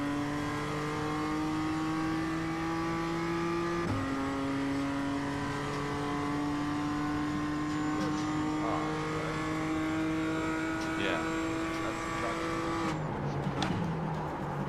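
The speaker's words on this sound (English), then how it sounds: "Imagine you're in an old muscle car that doesn't sound like a muscle car." An old muscle car's engine drones steadily during a hotlap in a racing video game, its pitch climbing, dropping sharply at a gear shift, then rising again before the throttle lifts near the end.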